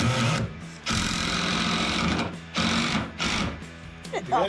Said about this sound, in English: put the other hand on the back of the drill, push it down.